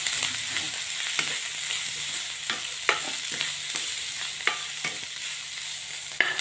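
Cabbage with garlic and green chili being stirred in a hot pan, a steady sizzle broken by repeated sharp scrapes and clinks of the utensil at irregular intervals, close and clear with no talking.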